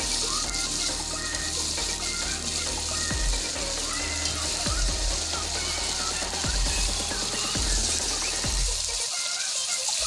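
Chicken sizzles in hot oil with ginger and garlic, a steady loud crackle with occasional stirring clunks, the frying cutting off sharply near the end.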